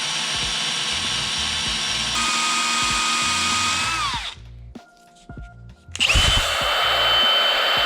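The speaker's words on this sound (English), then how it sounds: "drill this thing out with our 5/8 drill bit" A power drill with a 5/8 drill bit whines loudly and steadily, spins down near the middle, pauses briefly with faint clicks, then revs back up at full speed; nobody speaks.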